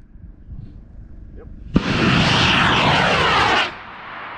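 A model rocket lifts off on a CTI M3100 White Thunder motor: a sharp ignition crack gives way to a loud, close, roaring hiss lasting about two seconds, then dropping abruptly as the burn ends.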